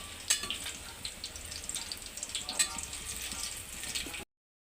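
Dried chillies, garlic, cumin, fenugreek and mustard seeds fry in hot oil for a tomato curry, giving a soft, steady sizzle with small crackles and pops, close and fairly quiet, with no talk.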